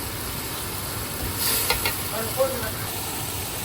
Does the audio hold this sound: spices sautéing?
yes